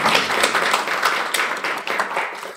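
An audience of engineers applauds at a formal event, a steady, fairly loud wash of many hands clapping throughout with no pauses.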